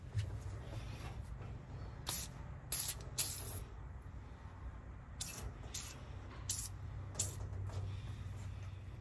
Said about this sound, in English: I'm gonna put some penetrating fluid on this first and hopefully I don't break this.